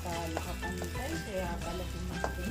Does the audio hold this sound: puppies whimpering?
no